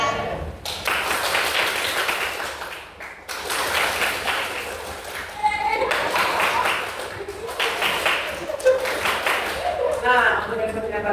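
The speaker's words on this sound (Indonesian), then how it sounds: "teman-teman sekalian tepuk tangannya keras ya" A classroom group clapping hands on instruction in several bursts of varying strength, with a teacher talking between and over the claps.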